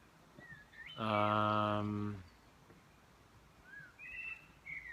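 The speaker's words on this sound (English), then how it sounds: "there's some birds making lots of noise here sometimes" At a bird reserve in Switzerland, a loud, harsh bird call rings out for about a second, with faint, thin whistled chirps before and after it.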